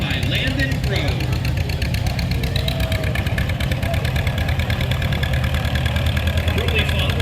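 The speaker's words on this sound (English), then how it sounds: "Next up is a John Deere M tractor," A John Deere M tractor engine idles at a small-town parade, a loud steady low chug with a rapid even pulse, while a voice announces over a loudspeaker.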